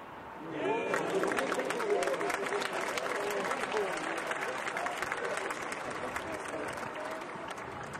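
A large golf gallery at the 2018 Masters, third round, breaks into applause for a birdie putt, a sudden swell of dense clapping and cheering that holds steady, then slowly tapers.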